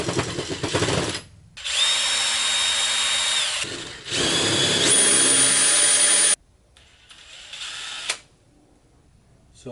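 Power drill boring into a plastic Neutrona Wand prop in bursts: loud, high whining runs of a few seconds each, separated by short pauses, with a fainter final burst.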